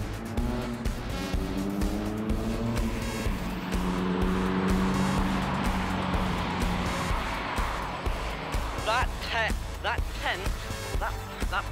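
A Honda car drives past outdoors, its engine note sweeping through with a brief tire-like squeal, while people talk nearby over steady background noise.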